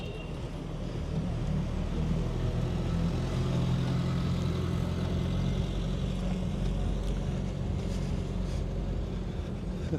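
A Renault Caravelle engine idles low and steady after twenty years off the road, a loud, even mechanical rumble running unbroken throughout with no pauses or revving.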